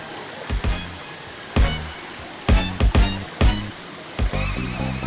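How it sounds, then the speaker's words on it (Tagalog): Water rushes down into a small natural pool in Tanay, Rizal, Philippines, a constant broadband wash broken by several close, low thumps and bumps. "itong tubig dito, bumababa papunta doon sa isang pool doon na maliit"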